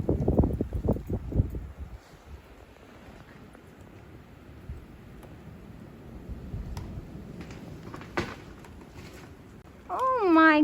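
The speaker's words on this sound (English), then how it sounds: "There goes the wind again." Wind gusts outdoors during a Maine blizzard, a low, rumbling buffeting roar that swells and fades for several seconds. A voice speaks briefly at the start, and a thin rising whine cuts in near the end.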